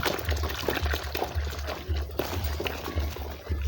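Water poured into a mixture for homemade liquid detergent, a close, continuous splashing pour with gurgling pulses that rise and fall at a moderate level.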